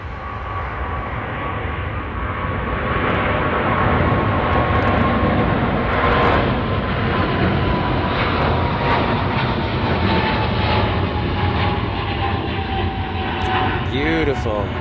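Airplane engines roar at Chicago O'Hare International Airport, a loud sustained jet rumble across the whole stretch, swelling slightly midway, heard from a plane spotting spot with people talking over it.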